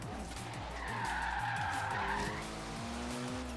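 A 2004 Mitsubishi Lancer Evolution VIII MR drifting in the Forza Horizon 3 racing game, with a loud, sustained tire squeal over a steady, revving engine drone lasting throughout.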